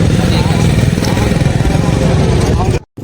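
Close, loud motorcycle engine of a rented beach bike at Cox's Bazar, revving with steady rattling throb for about three seconds before cutting out briefly, with voices mixed in.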